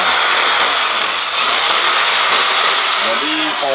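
A 350-watt electric drill and a 400-watt jigsaw run at the same time off a portable solar power box, a loud continuous whirring, buzzing drone with some rough sawing texture, and a voice briefly talks near the end.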